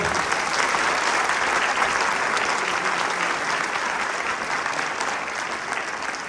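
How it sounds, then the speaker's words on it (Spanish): Steady, dense applause from a seated audience after a keynote lecture on education, a continuous wash of clapping that holds level and then eases slightly toward the end. "Un fuerte aplauso,"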